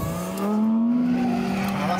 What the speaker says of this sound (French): À rien, sauf à donner le sourire ou à fumer les pneus très facilement.